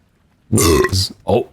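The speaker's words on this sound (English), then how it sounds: "Oh yeah, It's burping." A creature in a game called Belcher lets out two deep, loud, gurgling belches, a long one followed after a short pause by a shorter burp.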